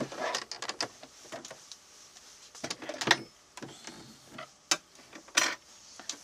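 Home sewing machine running a zigzag stitch on fabric, heard as short, irregular bursts of mechanical whirring and ticking that stop and start close by, with no one talking.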